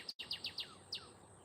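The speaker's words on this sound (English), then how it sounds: "my birds, they're very loud." Several birds chirp and call outside in the morning, a run of quick bright chirps close together followed by one more after a short gap, fairly loud against a quiet background.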